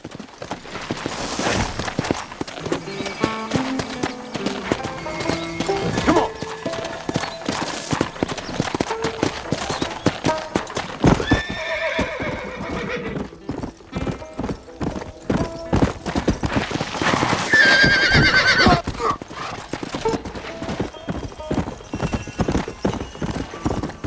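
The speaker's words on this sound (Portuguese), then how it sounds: "Pelo menos meu cavalo tá mais rapidinho agora," Horse hooves clip-clop at a steady gallop in the Red Dead Redemption video game, loud and close, with a brief neigh partway through over a busy game soundscape.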